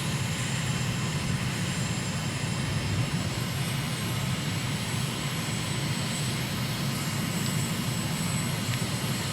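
Aircraft engine on approach in Microsoft Flight Simulator, with the approach flown into Paro, Bhutan: a steady, dense broadband drone continuing unbroken throughout at constant loudness.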